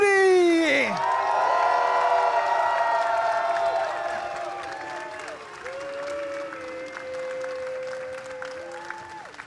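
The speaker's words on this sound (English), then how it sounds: "I also want to hear everybody a loud cheer for Blue Scooty!" A loud crowd cheers and applauds for Blue Scooty at a Classic Tetris World Championship tournament, with a sustained roar of clapping and whoops that fades slightly and continues throughout.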